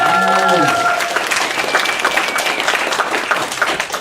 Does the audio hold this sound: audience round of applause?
yes